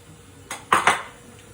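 Chopped parsley being stirred into food in a cooking pan, with a few quick metallic scrapes and clinks of a utensil against the pan, close and fairly loud over quiet background.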